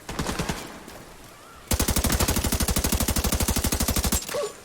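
Sniper rifle fire in The Division 2, with a rapid, evenly spaced string of loud shots after a shorter burst, up close and continuous for a few seconds, with no talk.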